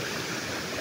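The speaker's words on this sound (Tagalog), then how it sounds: "bali tatawid tayo ng creek Ayan. Tatawid tayo ng sapa. Ganda ng tubig dito" Creek water flows steadily across a farm lot, a continuous broadband rush and babble that fills the whole moment, fairly close and with no voices over it.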